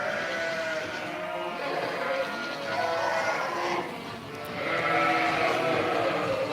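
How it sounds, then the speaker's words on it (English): Goats on a farm, including a Boer goat near an Angora, bleat in drawn-out wavering calls that overlap in a noisy pen with other animals nearby. "See that goat next to the Angora?"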